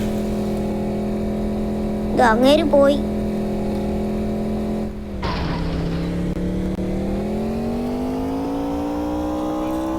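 A Wagon R car drives in the Indian Theft Auto video game, its steady engine drone rising in pitch as it accelerates, with a brief crash-like burst midway and someone talking briefly over it.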